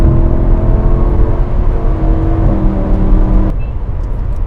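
A Lamborghini Huracán Spyder roars loudly and steadily from close by as it accelerates, with a brief break in the engine note as it shifts gear near the end.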